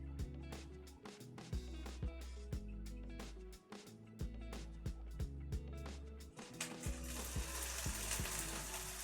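Onions and spinach sizzle in a pan after a splash of apple brandy, a steady crackling hiss broken by frequent sharp clicks and scrapes, close and continuous.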